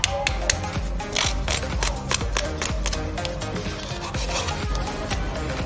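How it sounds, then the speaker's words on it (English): Hardened acrylic dip powder nails being filed, a dense run of close scratchy rasping strokes with an uneven rhythm that continues steadily without pause and with no talking. "so as you're filing, it's not coming off and it's dry"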